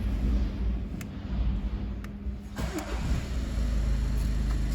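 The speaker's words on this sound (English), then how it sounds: "second attempt at the button and the car fired up" A VW Golf with a no-start fault fires up on the second press of the start button, a brief crank catching into a steady idling engine hum, close and loud, with no talk.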